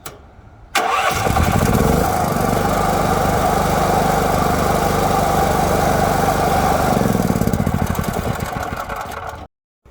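A small generator engine fitted with an add-on choke actuator catches after a brief quiet start and settles into a loud, steady running drone nearby, then cuts off abruptly near the end; no voices.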